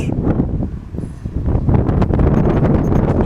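Strong, gusty wind buffets the microphone in a village burned by a large wildfire, a loud continuous roar with bursts of rustling and rumbling.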